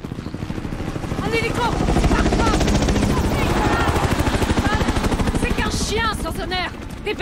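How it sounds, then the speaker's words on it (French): Helicopter in the video game Modern Warfare, a loud steady rotor chop throbbing throughout, with gunfire and chirpy game effects layered over it while a voice speaks in French. "Un hélico."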